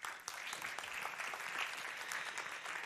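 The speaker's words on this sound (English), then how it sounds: "Applause." Conference audience at an India–Sweden innovation event applauding in a steady, even wash of many hands, heard faintly from a distance without speech.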